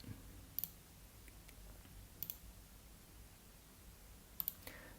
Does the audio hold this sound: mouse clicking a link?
yes